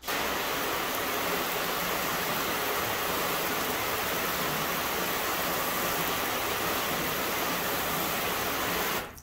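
Steady hiss of rinse water spraying across a car panel treated with graphene and ceramic coating sprays, constant and loud without pause for the whole stretch.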